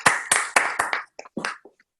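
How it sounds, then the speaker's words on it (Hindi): A few people clap to welcome poet Fateh Ali Chatur onstage at a comedy show, five or six loud claps in a steady rhythm before the sound thins to scattered, fading taps. "आप सभी के चहेते जोरदार तालियों से स्वागत करें श्री फतेह अली चतुर जी का"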